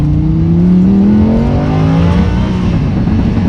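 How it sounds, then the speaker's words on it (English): A Lamborghini Huracán engine droning loudly up close, its pitch rising steadily as it revs, with a rough exhaust rumble underneath. "the exhaust wants to open up, wants to come out and play a little bit"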